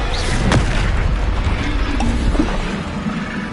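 Spell explosions burst out in rapid succession during Hogwarts Legacy combat, with Confringo blasts landing as loud booms over a dense, continuous layer of magical effects and rumble.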